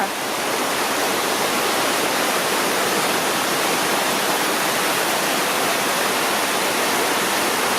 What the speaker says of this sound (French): En fait, il pleut comme ça depuis hier.